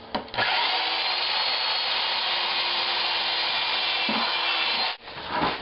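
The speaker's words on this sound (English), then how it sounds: "Holes are drilled in the bucket, drilled in the bottom of the bucket, drilled in the lid of the bucket." A power drill bores holes through a plastic car shampoo bucket, a steady high whine running for about four and a half seconds, with a brief break before it stops and restarts at the end.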